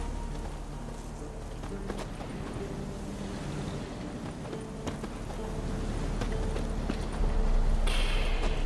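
Overloaded horse plodding along in The Witcher 3, steady clip-clop of hooves at a slow walking pace, close and continuous over a low ambient bed, with a voice speaking now and then.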